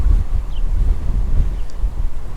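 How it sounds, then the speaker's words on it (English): Outdoor wind buffeting a microphone during rockhounding for agates near Carey, Idaho; a steady, loud low rumble with gusty swells throughout and no talk. "It's a bit windy."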